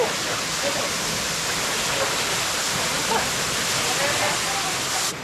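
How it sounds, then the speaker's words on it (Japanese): A roughly 20-metre waterfall, Fudo Falls on a mountain stream along the Mazegawa River in Gifu, pours in a dense, steady roar of rushing water, close and loud throughout, with faint voices mixed under the spray. "落差およそ20メートル、不動の滝がゴール。"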